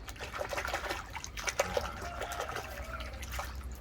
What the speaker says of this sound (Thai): ล้างน้ำให้สะอาดนะครับท่านผู้ชม